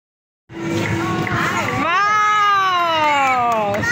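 A group of friends cheering and shouting together while shooting at an archery range at Mango Meadows: loud, close, sustained voices whose pitch rises and falls, starting abruptly and carrying on to the end.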